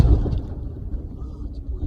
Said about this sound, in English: It was a big ass explosion.